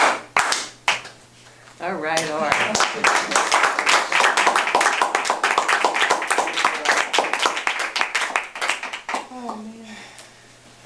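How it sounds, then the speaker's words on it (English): Toastmasters meeting audience claps hands in a lively burst lasting several seconds, with voices talking before and after and briefly over the clapping. "clap your hands."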